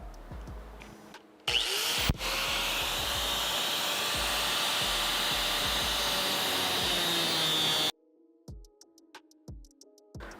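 A Dremel rotary tool cuts into a Supra fender liner with a loud, steady high-pitched whine lasting several seconds, then stops, leaving scattered taps and handling clicks.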